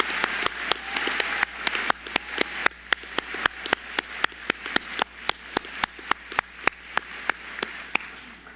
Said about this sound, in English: applauding for their contribution.